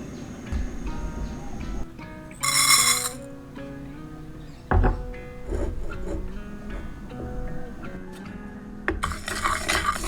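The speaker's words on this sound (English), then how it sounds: "The first step you should start with is toast the rice." Rice toasting in a pan for a Thai fish-sauce dipping sauce, with clinks of a utensil against the pan, scraping stirs and a couple of sharp metallic knocks over a soft sizzling bed, close and fairly loud, no talk.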